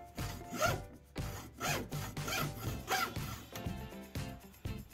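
A small wooden strip, 1.5 by 1 centimetres, is cut with a series of close, rhythmic back-and-forth rasping strokes, about six distinct bursts with short pauses between them.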